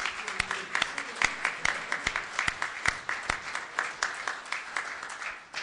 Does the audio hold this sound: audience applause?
yes